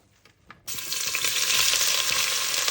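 Onions tipped into a hot pan for a meat curry set off a sudden loud, dense sizzle after a brief quiet moment, holding steady and close with no talking.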